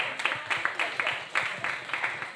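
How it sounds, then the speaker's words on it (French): Applause from an audience at a talk on activism and civil disobedience, heard as fairly faint, uneven rounds of clapping with rhythmic bursts through the stretch. "Applaudissements"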